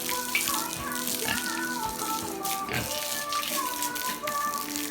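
Water poured steadily over a pig during a hot-day bath, a continuous splashing wash with brief louder gushes, close and without speech.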